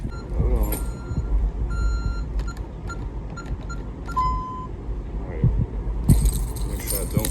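Keys jangle in bright metallic bursts beside a delivery truck on a route in Buckeye, Arizona, with reversing-style beeps and steady engine rumble underneath, a sharp jingle near the start and louder rattling at the end.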